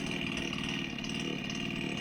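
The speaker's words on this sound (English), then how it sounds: "It's an older chainsaw, but it's heavy duty." An older heavy-duty chainsaw runs at a constant, even drone, moderately loud and alone, with no talk.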